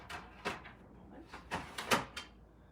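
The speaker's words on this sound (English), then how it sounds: "Have a little air coming in through the cat door. I'm just going to close that up for a moment." A cat door in a quiet indoor room is closed with several faint knocks and rattles, ending in a soft latching clack, no talking.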